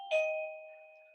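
A home doorbell gives a single two-tone chime, clear and close, its tones ringing on and fading slowly with no other sound around it.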